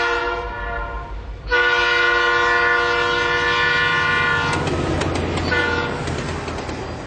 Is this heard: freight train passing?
yes